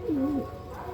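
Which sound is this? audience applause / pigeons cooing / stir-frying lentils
pigeons cooing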